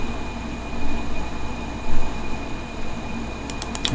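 A steam monorail train runs in RollerCoaster Tycoon: a steady low rolling rumble with a faint constant tone, and a few sharp clicks near the end.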